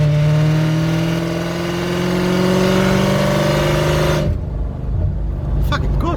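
A supercharged 2012 Mercedes C63 with 193k km revs hard under throttle, a loud, close engine note that climbs steadily for about four seconds and then cuts off abruptly into a quieter rumble.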